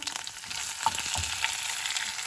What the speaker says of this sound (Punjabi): ਹੁਣ ਅਸੀਂ 5-10 ਸੈਕਿੰਡ ਹੋਰ ਇਹਦੇ ਵਿੱਚ ਫਰਾਈ ਕੀਤਾ।